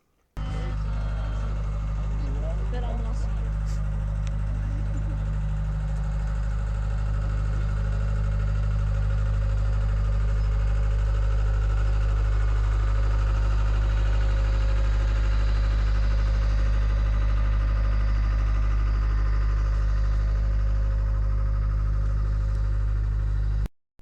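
A World War II Jeep, painted as a black-and-yellow-hooded Follow Me airfield Jeep, idles at a military vehicle show with a loud, steady, low engine rumble that runs unbroken for over twenty seconds.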